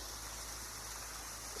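A waterfall in the Saguenay Fjord pours as a faint, steady hiss of rushing water heard from a dinghy nearby, continuous and even with no talk.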